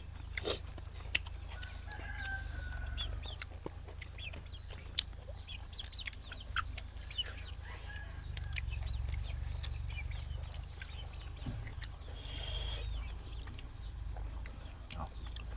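Chickens cluck on and off at moderate distance, with short bursts of calls over a low steady background hum.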